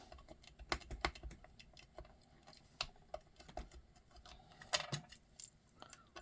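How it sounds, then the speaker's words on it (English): A bone folder rubs and scrapes over small paper craft pieces, giving quiet, irregular scratchy strokes and taps with no talking. "I'm going to take my bone folder now, and I'm going to rub all over those"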